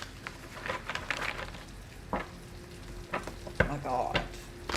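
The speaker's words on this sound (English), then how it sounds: "It is raining like crazy." Heavy rain hisses steadily and close by, with scattered louder patters and splashes.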